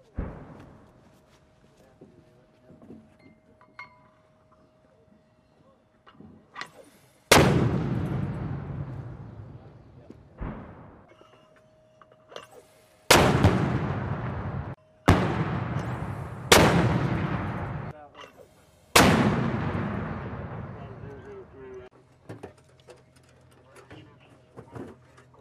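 A 120mm mortar fires in live fire, five heavy booms spaced a few seconds apart. Each blast is loud and sharp and fades into a long rumbling decay, with faint sounds from the crew between shots.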